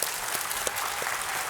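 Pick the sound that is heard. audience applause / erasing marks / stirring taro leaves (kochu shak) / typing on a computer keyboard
audience applause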